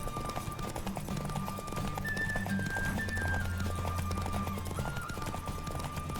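Horse hooves clip-clop rapidly in a steady galloping rhythm during a horse race in The Witcher 3, with a neigh and game music playing underneath throughout.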